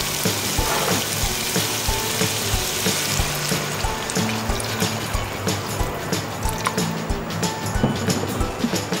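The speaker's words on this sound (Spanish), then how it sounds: "Ahí vamos a echar el agüita." Water poured into a cooking pot while preparing Piura-style atamalado, a continuous splashing, gurgling fill heard up close and fairly loud without speech.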